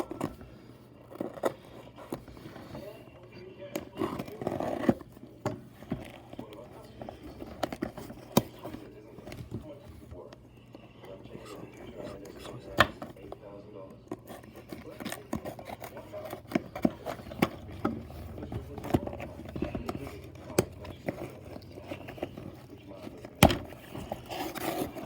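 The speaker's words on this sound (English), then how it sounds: "I have to very carefully cut the tape" Packaging tape on a mailed package for a Halo Infinite collector's Master Chief figure being slowly and carefully cut, giving close, quiet scraping, snipping and rubbing sounds with scattered taps over a long stretch.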